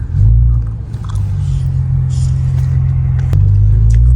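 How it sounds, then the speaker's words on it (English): Infiniti Q50 with a rebuilt turbo setup giving a loud, sustained low engine rumble close to the microphone, holding steady with a slight rise in revs toward the end as it downshifts. "when you downshift in this baby, oh, it's gonna sound so good"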